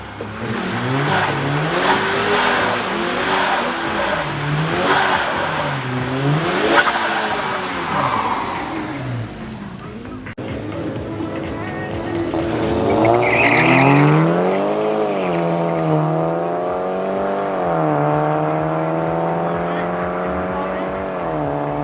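A VW Golf and an Opel race at Midvaal Raceway, engines loud and close, revving hard through rising and falling gear changes with tire squeal, as an announcer commentates over the noise.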